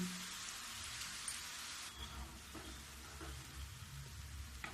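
Namak pare dough frying in oil over a medium gas flame, giving a continuous close bubbling sizzle like steady rain, with occasional soft knocks of stirring underneath.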